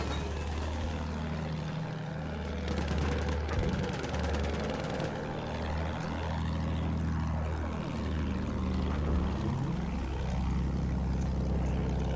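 An attack plane in the video game Battlefield 1 drones with a loud, steady propeller and engine roar, pitch sweeping down and up as it maneuvers, with a brief burst of rapid gunfire layered over it.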